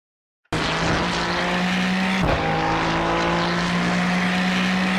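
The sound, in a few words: GT3 race car driving at Fuji in iRacing video game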